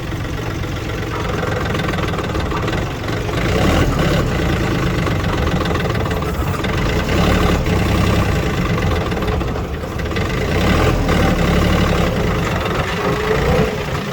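A small Japanese Hinomoto N239 mini tractor with a front loader idles steadily nearby, a low chugging rumble with a slight knock that swells a little at times.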